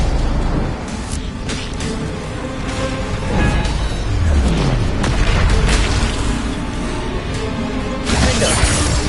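A Confringo blasting spell goes off in the video game Hogwarts Legacy amid loud, dense battle noise, with heavy booming blasts, shattering crackles and a rumbling low end throughout.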